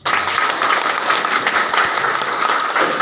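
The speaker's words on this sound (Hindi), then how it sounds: "एक बार जोरदार ताली बजाओ" An audience claps loudly and steadily at a motivational seminar, dense applause filling the room at close range for the whole stretch with no talk over it.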